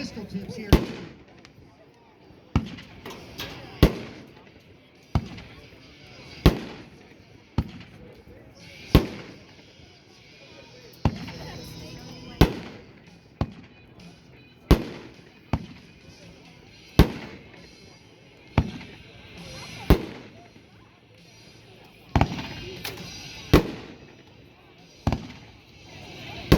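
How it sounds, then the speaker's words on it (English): A World Class Deadly Strike 500-gram firework cake at an outdoor demo in Aiken, SC, firing a steady series of distant, sharp reports every second or so over a low crowd murmur. "Good hard-hitting 500-gram cake, good pistol tips here."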